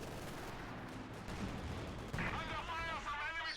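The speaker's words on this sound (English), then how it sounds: "SU going for a barrage" An artillery barrage in a video game: repeated distant thuds and gunfire rumble under it, and a commentator speaks over the bombardment.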